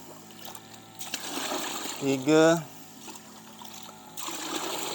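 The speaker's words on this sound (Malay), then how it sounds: "Satu bekas ni 2 liter. So kita letak 8 liter air. 8 kali tuang." Water poured from a 2-liter container into a mix of kitchen waste, one brief splashing gush in the middle, heard close and loud between stretches of a person talking.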